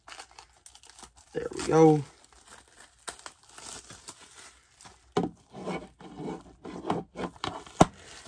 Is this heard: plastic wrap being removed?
yes